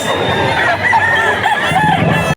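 Chickens at a poultry yard in Bocaue, Bulacan, with a rooster crowing in long wavering calls over a dense, continuous bed of clucking and other crowing from many birds nearby.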